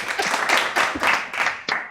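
A small group of people clap their hands in a handful of quick, uneven bursts, close by and moderately loud, with no talking over them.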